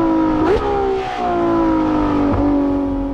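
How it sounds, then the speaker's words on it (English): Ferrari Daytona SP3 engine in race mode, a loud sustained high-revving V12 howl with sharp blips as it downshifts through the gears, continuous and close, no speech. "The down changers, they sound totally different to either the LaFerrari or 812. They're just even more brutal once you get it in race mode."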